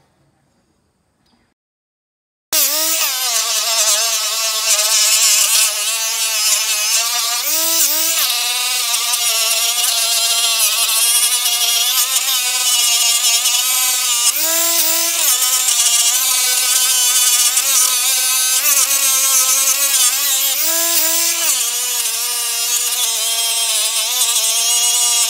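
A power tool polishes an aluminum wheel rim, a loud continuous high-pitched whine that runs unbroken after a quiet start, with brief dips in pitch as pressure on the wheel changes.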